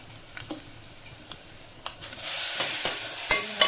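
Tomatoes with black pepper, cumin and turmeric sauté in a pan, a soft steady sizzle broken by scattered stirring scrapes and clicks, growing louder and denser partway through.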